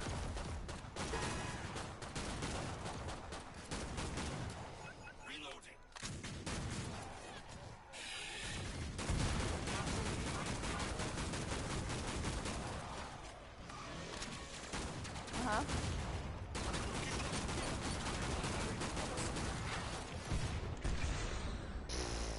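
Gunfire from the boing gun in Killing Floor 2 rings out in dense, continuous volleys with crashing impacts, loud and busy throughout with brief dips, while game sounds and voices pile up underneath.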